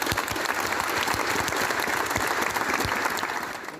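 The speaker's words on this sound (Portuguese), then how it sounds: "uma salva de palmas para ele." A crowd applauds steadily in dense, continuous clapping that stays full and close for a few seconds before easing slightly at the end.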